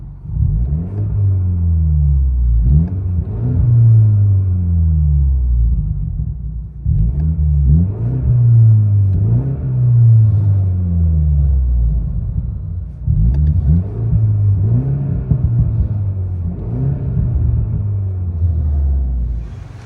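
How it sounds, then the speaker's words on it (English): A 2018 BMW 330i with a 2.0L turbo engine, muffler delete and Y pipe, heard from inside the car, revs repeatedly in loud, deep rising and falling bursts, about four cycles, with no talking. "BMW 330i, muffler delete, Y pipe."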